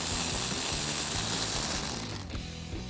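A ratchet fitted with a 10 millimeter socket turns a nut on a Ford Bronco, giving rapid close clicking of the pawl for a couple of seconds before it stops.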